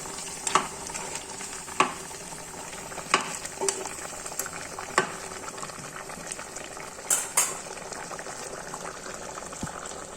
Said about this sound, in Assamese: এতিয়া জোখমতে পানী দিলোঁ।